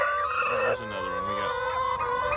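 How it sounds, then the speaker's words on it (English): Roosters crowing among pastured chickens and turkeys on a farm, overlapping drawn-out calls with a wavering pitch over a couple of seconds, close and prominent with soft clucking beneath. "We got 2 roosters."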